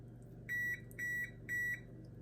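An oven preheated to 425 degrees signals it is ready with three evenly spaced electronic beeps, each about a quarter second long, clear over a low kitchen hum.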